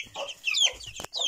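A naked-neck chicken clucks close by in a rearing pen, with a quick run of squawky clucks.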